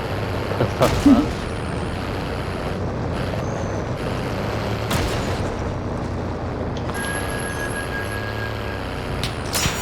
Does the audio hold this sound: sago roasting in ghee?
no